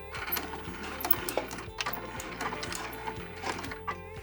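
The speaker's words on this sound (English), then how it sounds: "I'm going to sew these together with a 1/4 inch seam allowance, making sure to back stitch at the start and stop" Sewing machine running a steady line of stitches for a quarter-inch seam with a backstitch, a close, even mechanical whir and rapid needle ticking throughout with brief shifts in pace.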